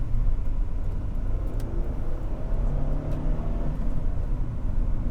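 Interior drone of a 1994 Honda Prelude with a manual gearbox accelerating, a steady low engine rumble and road noise throughout, close and continuous.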